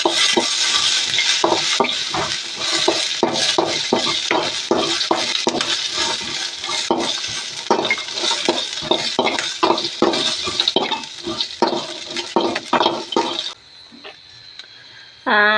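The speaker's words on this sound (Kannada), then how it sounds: "ಶೇಂಗಾ ಮತ್ತು ಹಸಿರು ಮೆಣಸಿಕಾಯಿ ಮತ್ತು ಬೆಳ್ಳುಳ್ಳಿನ ಫ್ರೈ ಮಾಡ್ತಾ ಇದ್ದೀನಿ" Peanuts, green chillies and garlic frying in oil, with busy, continuous scraping and clattering of a spatula against the pan, then it quietens near the end.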